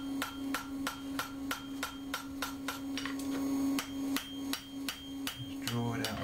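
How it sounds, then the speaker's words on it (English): A blacksmith hammers hot metal while forging a horseshoe into a hoof pick, finishing with a smaller hammer: sharp, ringing anvil strikes in a steady rhythm, about two per second, over a constant low electrical hum. "Go on to the smaller hammer now, finishing off."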